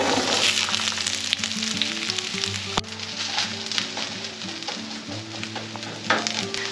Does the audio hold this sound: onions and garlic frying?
yes